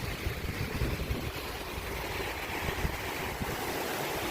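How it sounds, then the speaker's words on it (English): Big Dipper Waterfall on Poland Creek pours with a constant, dense roar of rushing water. Wind buffets the microphone, and the noise stays steady throughout with no voices. "We made it to the waterfall."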